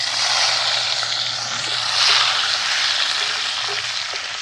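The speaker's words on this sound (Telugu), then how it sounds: "అదే నూనెలో నెత్తల్లో అయితే వేపుకుందాం." Dried nethallu (anchovy) fish frying in hot oil left from frying eggs, a steady broadband sizzle that holds at an even level throughout and swells slightly midway, with no talking.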